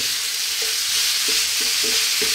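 Minced meat sauce frying over above-medium heat in a pan, a loud, dense, continuous sizzle close up, with a few soft, evenly spaced stirring scrapes underneath.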